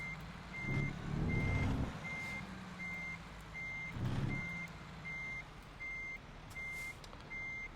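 A truck reversing in American Truck Simulator gives steady, evenly spaced high beeps over a low engine rumble, with a couple of louder engine surges and a faint hiss.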